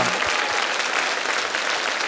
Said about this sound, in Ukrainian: Це заслуговує овації